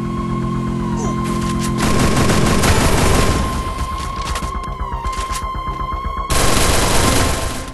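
Sustained rapid gunfire in Free Fire, dense overlapping bursts of shots with a steady background hum, easing briefly midway before a final loud volley.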